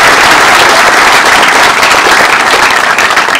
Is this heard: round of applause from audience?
yes